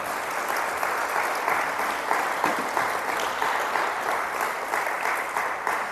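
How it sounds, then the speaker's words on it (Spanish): Steady applause from a church congregation during a Spanish-language Sunday morning service, a dense wash of many hands clapping at an even level for the whole stretch with no voice over it. "Aplauda a Dios en esta mañana."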